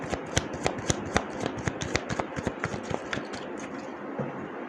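A deck of tarot cards being shuffled by hand, with a rapid run of crisp riffling snaps and flutters close by that thin out and fade near the end.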